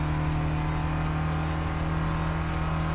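A Honda S2000 engine from a PS3 racing game at the Nürburgring drones steadily at high revs with a constant buzzing tone, loud and continuous with no pauses or talk.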